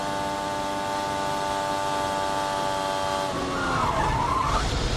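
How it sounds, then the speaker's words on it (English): Onboard IndyCar-style race car loose mid-corner, a steady high engine drone with harmonic whine that breaks into tire scrubbing and squealing skid noise over the last second and a half, loud and close. "That's just a loose race car."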